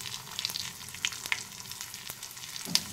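Curry leaves and dried red chillies frying in hot oil for a lentil rasam tempering, a steady close crackling sizzle with small sharp pops scattered throughout, no voices.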